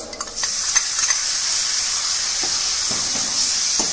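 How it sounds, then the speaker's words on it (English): Chopped tomatoes sautéing in hot oil give a loud, steady sizzle and hiss up close, with a few spatula stirs and scrapes breaking through now and then. "Lightly saute in oil, then add chopped tomatoes"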